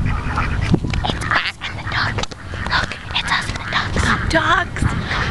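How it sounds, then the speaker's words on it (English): Ducks quacking at an outdoor park, with repeated nasal calls close by that are mixed with people chatting and general background noise all the way through. "Look, I'm this close to a duck."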